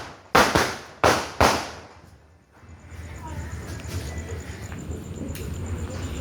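Diwali fireworks sky shots going off outdoors: three sharp, loud bangs in quick succession, then a fading crackling hiss and a steady background rumble of distant festivities.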